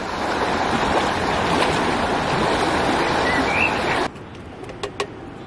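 The Our river in Luxembourg flowing right beside the bank, a loud, steady broadband rush of water that cuts off abruptly near the end, leaving faint quiet sounds.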